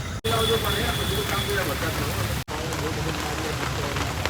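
Steady, dense monsoon rain pours down in Ahmedabad in a continuous hiss, with two very brief dropouts in the sound.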